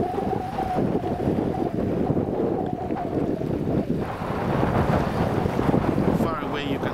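Wind and water at a public beach in Port Sudan, with steady broadband gusts buffeting the microphone over a continuous wash of surf, faint background voices of people mixed in throughout.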